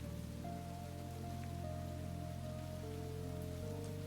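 Steady rain in a cute video game, a continuous even patter carrying on alone beneath soft, sustained background music tones.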